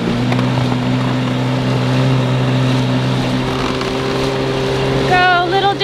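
A small outboard motor pushes a dinghy across the water with a steady droning hum and rushing wash, loud and close, and a voice cuts in near the end.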